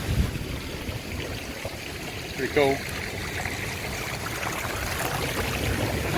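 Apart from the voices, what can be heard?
small waterfall splashing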